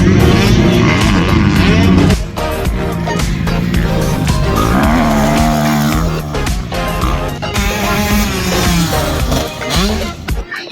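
Motocross bikes race at the Sheikh Jaber Al Sabah track in Kuwait. Their engines whine loudly and steadily, with rising and falling revs that overlap throughout.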